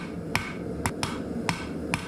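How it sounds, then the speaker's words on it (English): Hammer striking hot steel to thin out a blade at a blacksmith's forge, five sharp ringing blows at an uneven pace with a steady low background hum. "we can start thinning out the blade using the flat side of a hammer"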